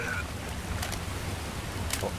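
Steady, full rush of falling water at a waterfall by a river in the zombie shooter Left 4 Dead 2, with a couple of faint higher splashes over the continuous roar.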